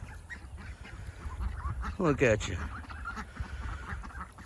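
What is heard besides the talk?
ducks calling near fresh water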